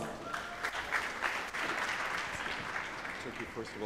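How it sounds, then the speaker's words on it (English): An audience claps for a speaker walking onto a stage, a fairly faint, dense patter of many hands that continues steadily for a few seconds. "let us all welcome on stage with a round of applause, Mr. William Aycox."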